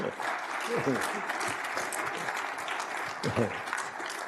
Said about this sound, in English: let's give Tom one more nice round of applause